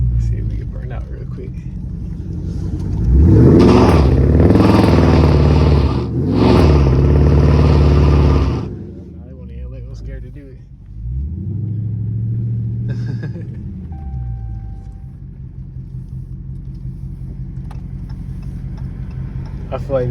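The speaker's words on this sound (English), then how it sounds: "Let's see if we can burn out real quick." Widebody Dodge Charger Scat Pack V8 revving hard for a burnout attempt, two loud rising and falling revs close by, then a lower rev and settling idle rumble.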